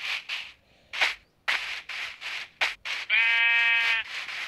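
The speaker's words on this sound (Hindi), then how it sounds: "मैं ये भेड़ भी कितने अच्छे से लगती है ना" A Minecraft sheep gives a drawn-out, wavering bleat near the end, after a series of short scuffing game sounds like footsteps and block rustles, all close and fairly loud with no talking.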